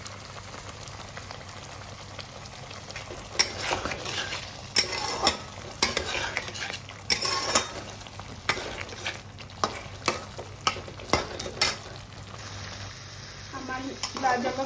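Egg curry bubbling in a pan while a spoon stirs it, producing repeated scraping and clinking strokes over a steady low simmer, close and fairly loud.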